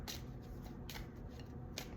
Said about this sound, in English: we're going to continue to shuffle and ask